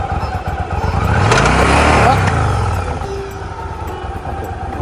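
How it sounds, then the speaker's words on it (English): Motorcycle engine starting and pulling away slowly in first gear, a loud rising engine note with rumble building then easing off as the bike moves away, with people talking nearby. "now just keep the clutch on and then start it"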